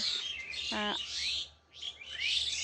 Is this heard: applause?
no